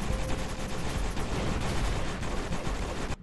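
Dense, continuous gunfire from a spread-shot weapon in the video game Kick Ass Commandos, with rapid overlapping bursts at steady loudness throughout and no talking.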